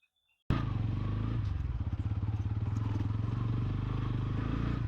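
Bajaj Pulsar N160 dual channel ABS motorcycle starting up and riding, its engine throbbing loud and close with a steady pulsing rumble that continues to the end.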